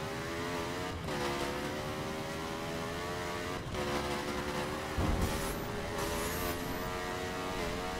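A 200HP dirt bike engine in the video game The Crew Wild Run, a steady droning high-revving whine with harmonic tones, briefly dipping at gear shifts and rising again.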